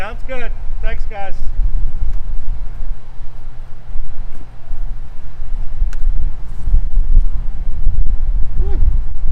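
Gusty outdoor wind buffets the microphone with a steady low rumble throughout, beside a hotel in Reading while honey bees are moved to a new home; a few short voices break in near the start.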